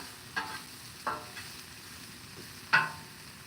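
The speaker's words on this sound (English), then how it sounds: "the shrimp is super quick to cook" Shrimp sizzle on a Blackstone griddle with a soft, steady hiss, broken by three sharp scraping or flipping strokes from a spatula, close and with no talking.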